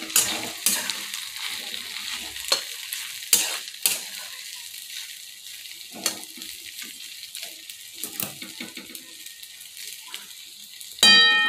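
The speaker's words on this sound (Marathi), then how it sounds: "आता यात आपण शाबू आणि शेंगदाण्याचं कूट लावलेलं मिश्रण टाकू आणि आता व्यवस्थित मिक्स करून घेऊ" Sago pearls and crushed peanut mixture are stirred into steamed sweet potato in a pan for sabudana khichdi, giving irregular close scraping strokes and light clatter over quiet gaps, ending in a brief bright burst.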